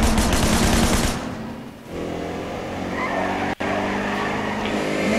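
Rapid automatic gunfire and a car engine with tire squeal from the Sleeping Dogs video game, loud and continuous, with a dense burst at the start, then driving noise with a brief sharp dropout midway.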